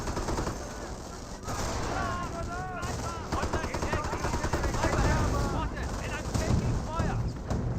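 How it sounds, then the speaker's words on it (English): Rapid gunfire from snipers and rifle squads in the World War II strategy game Company of Heroes, a dense continuous stream of shots and bursts mixed with game effects, loud throughout, with a voice talking over it. "Riflemen may draw some fire."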